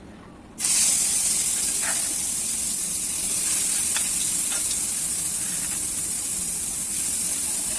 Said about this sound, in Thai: เอาเครื่องลงไปผัด